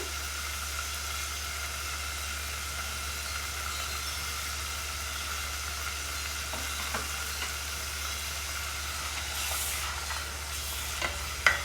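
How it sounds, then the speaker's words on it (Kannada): Cinnamon pieces and curry leaves sizzling in hot oil as a tempering for Andhra-style chilli chicken, a steady close frying hiss with occasional stirring clicks and no talk. "ಹಾಗೆ ಸ್ವಲ್ಪ ಒಗ್ಗರಣೆಗೆ ಕರಿಬೇವನ್ನು ಸೇರಿಸ್ಕೊತಾ ಇದ್ದೀನಿ."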